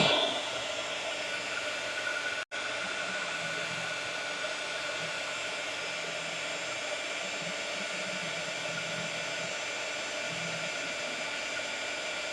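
A hair dryer drying watercolor paint on a Christmas postcard roars steadily and close for the whole stretch, one brief dropout breaking the constant airy hiss.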